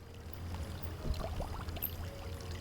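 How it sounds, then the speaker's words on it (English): Water pours and trickles into a bottle from a fountain in a video game, a short soft gurgling fill with no speech. "I filled the bottle with water from the fountain."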